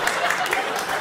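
A small group claps in a steady, continuous patter close by for about a second, with voices and reaction chatter mixed in underneath.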